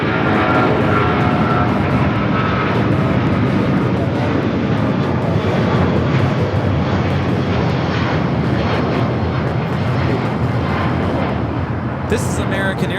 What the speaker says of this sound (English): This is American Airlines Flight 4 taking off to JFK on the 777-200ER.